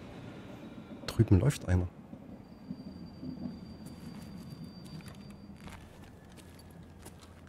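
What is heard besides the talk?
train passing in video game Escape From Tarkov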